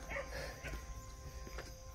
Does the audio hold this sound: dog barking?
yes